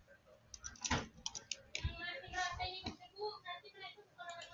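Keys tapped on a computer keyboard while a formula is typed into a Microsoft Excel spreadsheet, a quick run of clicks and taps mixed with a voice talking over them.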